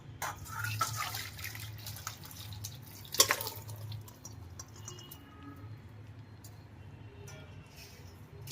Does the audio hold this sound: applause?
no